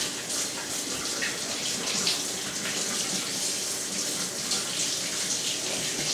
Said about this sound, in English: Now you should probably wipe and wash your hands.